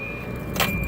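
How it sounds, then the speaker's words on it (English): A car with a tachometer wiring fault that makes it stall runs at a steady low idle, with a brief louder rustle in the middle and a faint high whine throughout. "Car's on, and it's rolling."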